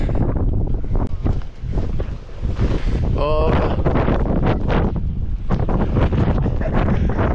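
Strong wind in bad weather on Grossvenediger mountain in the Hohe Tauern Alps, loud gusts buffeting the microphone continuously, with brief voices partly buried in the roar.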